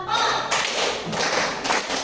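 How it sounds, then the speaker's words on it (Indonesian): A class of students claps in unison, with repeated bursts of group hand clapping arriving at a steady beat, loud and close, with faint voices underneath. "kalian harus tepuk dulu"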